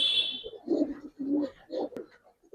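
Pigeons cooing in short throaty bursts, several low rolling coos in a row, close by, with a brief higher chirp at the start.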